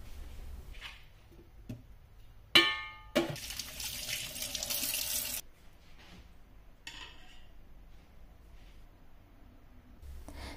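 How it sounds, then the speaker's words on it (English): Water drains out of tinned chickpeas into a kitchen sink: a short splashing pour for a few seconds, loud and close, then quiet room sound with small clinks. "Getting rid of the water from the chickpeas, which are ready to use to make a super tasty salad."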